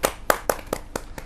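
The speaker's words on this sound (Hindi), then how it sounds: "जोरदार तालियों से" Loud, close hand claps at a Hindi poetry gathering (kavi sammelan) welcoming a poet, six sharp distinct claps in an even, quick rhythm with no talking.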